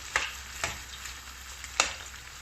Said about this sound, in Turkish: Şimdi bunlar çıtır çıtır kızaracaklar bu yağın içerisinde.